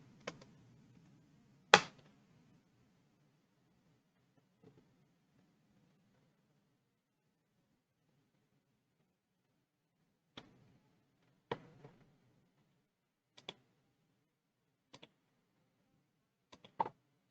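Sparse computer keyboard key presses while typing an npm install command, a few isolated clicks and short bursts spread across a quiet stretch, close and faint.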